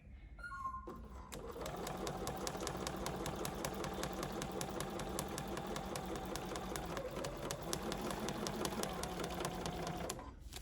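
A BERNINA sewing machine with a 43 couching foot stitches yarn onto a Christmas cushion, running steadily and close at a fast, even rhythm for about ten seconds after a brief start, with no talking.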